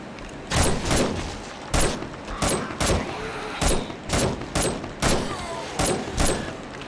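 Gunfire in the survival game 7 Days to Die, roughly ten sharp, loud shots in an uneven rapid series, each cracking and fading quickly.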